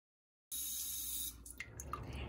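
A bidet sprays water at very low pressure, starting abruptly after a brief silence as a steady close hiss, then turning into a softer, uneven splatter.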